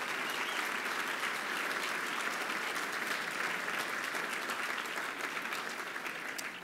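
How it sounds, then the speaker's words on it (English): Sustained audience applause after a choir's rendition of America the Beautiful at a fundraising dinner, a dense steady clatter of many hands filling the room and tapering slightly at the end, with no voices over it. "join me once again with another round of applause for VocalEssence and their terrific version"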